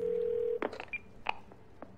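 Dialing emergency services on a phone in the Twelve Minutes video game: a steady dial tone cuts off, then a quick run of separate touch-tone key beeps follows, clear and close.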